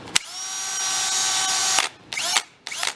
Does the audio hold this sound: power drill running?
yes